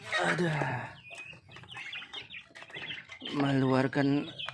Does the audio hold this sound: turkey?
yes